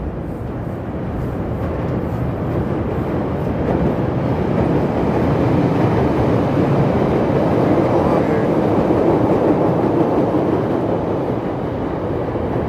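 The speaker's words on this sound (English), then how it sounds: "Here comes the green line here. We'll get the green line train." A Chicago Green Line elevated train arrives, filling the street with a loud, steady, broadband rumble and roar that holds for the whole stretch without pause.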